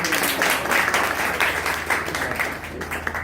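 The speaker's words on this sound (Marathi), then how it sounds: "कोणी या या चला जोरदार टाळ्या होऊ द्या" A crowd of audience members at a sanitary pad product demonstration claps steadily, a dense, continuous wash of applause filling the room for a few seconds.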